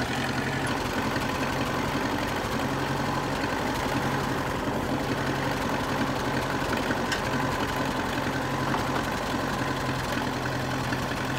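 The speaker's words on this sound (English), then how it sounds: "Next was the tractor." A steady low engine rumble idles on with an even, chugging throb, continuous and fairly close, with no voices over it.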